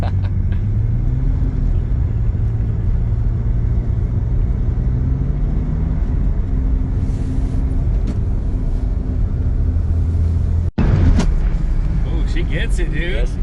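A 1985 Pontiac Fiero GT with a V6 engine driving after sitting for years, giving a loud steady rumble with rising engine pitch and a sudden sharp break near the end, with voices in the cabin.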